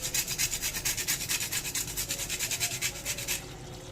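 A gondhoraj lemon's green peel is grated close up, rapid rhythmic rasping strokes, scratchy and dry, repeating steadily for about three seconds before stopping.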